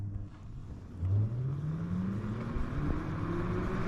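A Maeving electric motorcycle pulls away from a stop in mode 1, its motor whine rising smoothly and steadily in pitch over several seconds, heard up close above road and wind noise.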